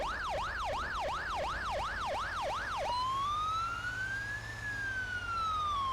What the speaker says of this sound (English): This is using a siren pack by Skillful Corpse, I believe it is.